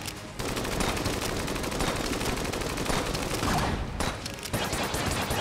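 Rapid, continuous gunfire from the Enter the Gungeon video game, with a flare gun among the weapons, runs as a dense steady barrage with a short break near the start and end.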